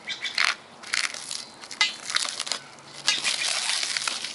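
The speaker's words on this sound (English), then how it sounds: "So we'll just unwrap the shrink wrap." Shrink wrap being cut and peeled off the packaging of an Uprooter garden tool: close crinkling, tearing and rustling plastic in uneven bursts, with no talking.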